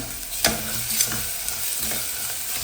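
Garlic-ginger paste sautés with red chili powder in hot oil for rajma, a steady close sizzle punctuated by a few sharp spatula strokes, with no one speaking.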